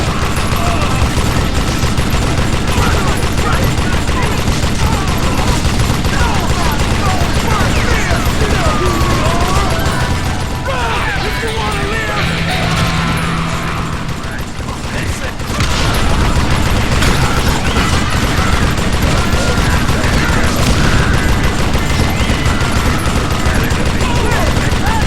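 Sustained gunfire in the Western shooter Call of Juarez Gunslinger, a steady clatter of rapid shots and mechanical noise running throughout, briefly thinning in the middle before resuming loud, with narration over it.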